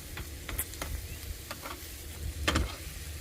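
Chicken of the woods mushroom pieces fry in a small, crowded skillet, a steady low sizzle with scattered crackles and pops, close and moderately loud, with no voices.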